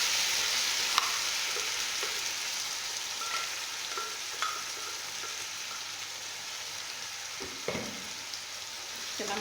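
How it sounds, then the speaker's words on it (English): Blended tomatoes fry in a pot of chicken kienyeji stew, giving a steady, moderately loud sizzle with a few soft clicks from a utensil, and no one speaking. "At this point, I'm going to add the tomatoes."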